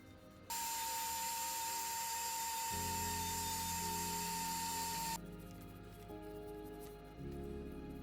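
A Dremel rotary tool cleans grease and rust off a 1945 Atlas Model 73 drill press, giving a loud, steady high-pitched whine that runs for several seconds, then cuts out and leaves a lower motor hum.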